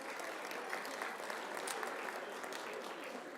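Dinner guests applaud a musician, a soft, even patter of many hands clapping, fairly distant and continuous through the short stretch.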